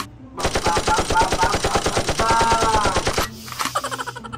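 Rapid automatic gunfire during an improvised play, a loud continuous burst of close shots lasting about three seconds, followed by a quieter, sputtering run of shots.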